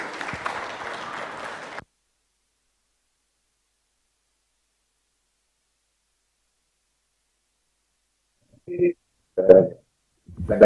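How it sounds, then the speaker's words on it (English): Audience applause at an international ICT conference session, a steady broadband clatter for about two seconds at the start, then silence, followed by a few brief spoken sounds near the end. "give applause for the speakers."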